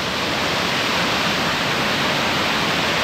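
Water rushing out of rock straight down into a mountain stream in a canyon on Crete, a loud, steady, close roar of flowing water that fills the whole moment with no voices.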